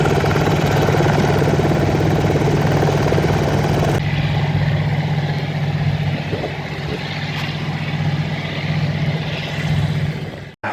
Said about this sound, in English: this morning we got here and the wind machines were going